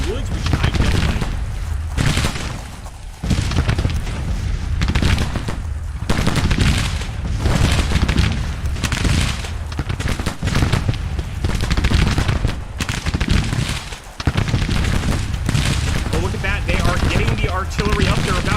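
Artillery booms and massed rifle fire in Grand Tactician, an American Civil War battle at Antietam: sustained, loud crackling volleys with heavy thuds, nearly continuous, with a voice talking over the battle.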